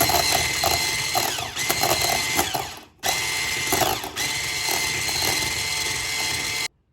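An electric hand mixer whips milk and whipped cream into a frosting for a raspberry birthday cake, a steady close motor whir that cuts out briefly midway, resumes, then stops.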